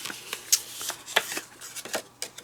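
Card panels of a Crafter's Companion Gemini picnic dimensional box are bent by hand, giving a run of sharp, close papery crackles and snaps at irregular intervals over quiet background.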